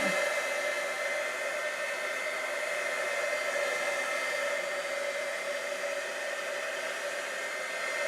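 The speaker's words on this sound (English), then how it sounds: "I will grab the heat tool and we will dry this" A heat tool blows a steady, even whoosh of hot air over watercolor paint to dry it, continuous and close for the whole stretch with no voices.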